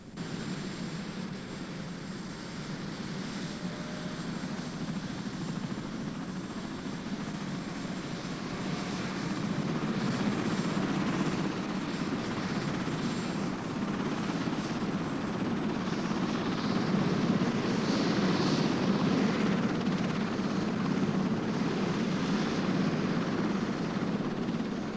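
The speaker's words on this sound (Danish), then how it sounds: "må børnene med helikopter, der flyver dem til Sønder Strømfjord" Helicopter flying over Greenland near Ilulissat, a steady droning rotor and engine roar that holds loud and constant for the whole stretch, swelling slightly partway through, with no voices.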